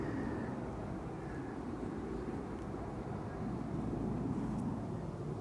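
Delta Airlines passenger jet arriving at Schiphol's Polderbaan runway after a flight from Salt Lake City: a steady, broad engine roar and rumble, continuous and fairly distant, with no talk.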